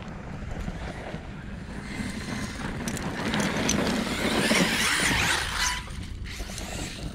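An ARRMA Kraton XL RC car drives in short runs, its whining electric motor rising and falling and swelling louder midway before easing off, heard outdoors at moderate distance.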